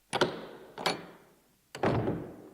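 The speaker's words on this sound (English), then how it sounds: "they heard the sound of the church door open" An old church door being opened gives three heavy wooden thunks with short echoing decays, evenly spaced at first and then after a longer pause, heard close and alone.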